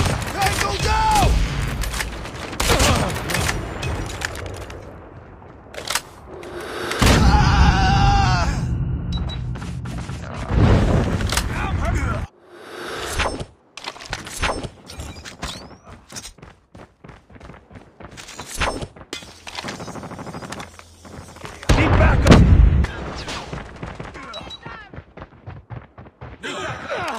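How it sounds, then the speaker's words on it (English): Rapid gunfire bursts and heavy booms from the Call of Duty Mobile video game, with in-game voice callouts heard over the shooting throughout. "Friendly nuke is ready."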